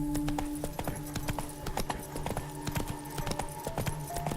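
Roach, the horse in the Witcher 3 video game, galloping: rapid, rhythmic hoofbeats pounding steadily and close for the whole stretch, with no speech over them.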